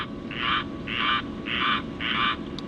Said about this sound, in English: Frogs are happy apparently.